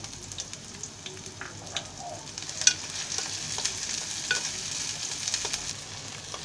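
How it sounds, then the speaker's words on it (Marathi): Onions frying in a pan for a dried bombil fish and potato dish, a steady close sizzle broken by scattered scrapes and clicks of stirring, with no talk. "त्याच्यामध्ये आम्ही पहिलं कांदा टाकते।"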